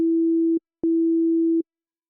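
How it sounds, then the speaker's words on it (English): Welcome tone from the Arturia Pigments 5 synth: a steady pure sine tone sounding twice, each held note cut off cleanly, the second slightly longer, with a short gap and click between. "So here we are in Pigments 5 and we're going to start with the welcome tone,"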